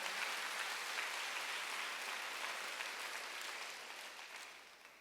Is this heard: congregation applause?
yes